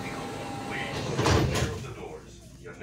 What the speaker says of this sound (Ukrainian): обережно, двері зачиняються